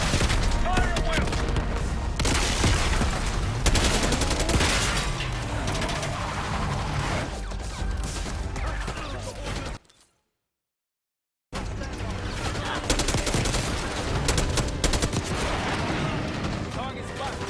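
Dense, loud gunfire rages through a Call of Duty Black Ops 6 campaign battle, with rapid automatic bursts and booming impacts piling together. The barrage cuts to silence for about a second and a half, then resumes just as fiercely.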